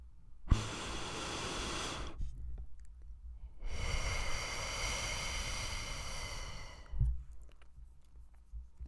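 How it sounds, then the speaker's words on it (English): Two long, deep breaths, a slow inhale and exhale each, close and clearly audible with quiet pauses between. "take a deep breath with me"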